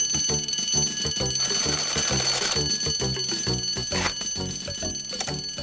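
A fire alarm bell rings out urgently in a cartoon about a village fire crew, its rapid metallic clanging mixed with rhythmic music and no voices.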